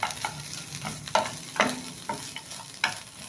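Coconut flakes frying in a pan on the stove, stirred in several quick scraping strokes over a soft steady sizzle, close and fairly quiet.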